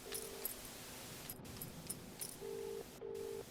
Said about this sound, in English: That is an actively connecting call.